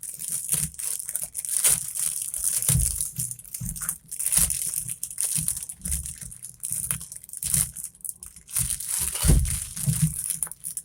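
Plastic wrap on a diamond painting package being torn open, with close, continuous crinkling and crackling bursts in uneven rhythm and no voices.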